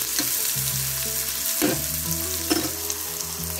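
Onions fry in a pan for an Odisha-style crab curry, a continuous close sizzle broken by a few sharp bursts where the onions are stirred and turned.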